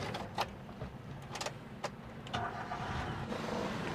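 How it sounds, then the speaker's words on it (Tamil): A used car's engine, with about 115,000 km on it, idles with a steady low rumble, close by, with a few sharp clicks and knocks over it. "அப்படி இன்ஜின் நாய்ஸ் எப்படி இருக்குன்னு கேட்போம்"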